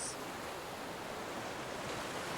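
Ocean surf washes in a steady, dense roar of broadband noise without pause, alone and fairly soft throughout.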